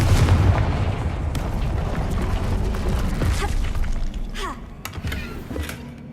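A Confringo explosive spell goes off in Hogwarts Legacy with a loud, booming blast that rumbles and fades, followed by scattered debris clatter and small magical flourishes.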